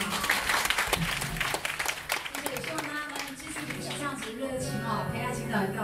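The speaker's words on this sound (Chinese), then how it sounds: "给你们自己掌声好不好？" Audience applause at a music finale show, steady dense clapping from a crowd throughout, with voices and other sounds mixed in beneath it.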